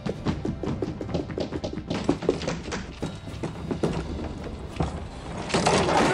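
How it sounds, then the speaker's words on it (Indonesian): Repeated knocks on a train wagon door, a series of sharp raps and thuds at an uneven rhythm against a busy background. "sebelum mencuat suara ketokan pintu gerbong dan..."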